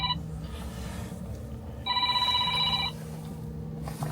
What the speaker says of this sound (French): le téléphone il faut qu'il sonne au moment où je suis en train de filmer